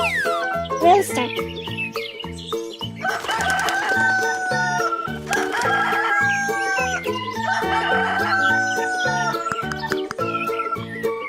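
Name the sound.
rooster crowing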